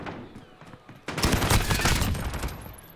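Call of Duty 2v2 gunfight match with submachine guns, a rapid burst of game gunfire erupting after a quieter start and rattling on loudly, with faint voices underneath.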